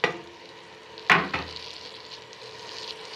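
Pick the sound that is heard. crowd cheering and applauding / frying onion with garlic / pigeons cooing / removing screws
frying onion with garlic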